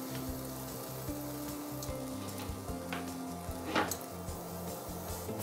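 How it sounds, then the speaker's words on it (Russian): Thin kefir pancakes frying in a pan give a soft, continuous sizzle under a steady low tonal hum, with a brief louder crackle near the end. "Блинчики обжариваются довольно быстро, по 30 секунд с каждой стороны."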